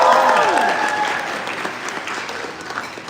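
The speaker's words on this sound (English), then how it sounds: "So give us a cheer for uncle." Wedding guests break into applause with whoops and cheering voices at first; the clapping fades gradually over about three seconds.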